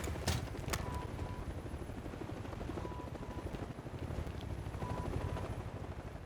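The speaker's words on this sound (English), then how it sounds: "This attack helicopter is right above me." An attack helicopter hovers directly overhead in Modern Warfare, its rotor beating in a steady, loud throb with sporadic gunfire mixed in.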